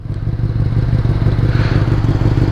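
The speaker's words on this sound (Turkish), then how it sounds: "Şimdi bir de benim egzoz sesini duyalım arkadaşlar." A motorcycle engine idles close by, its exhaust thumping in a steady, low, rapid pulse throughout.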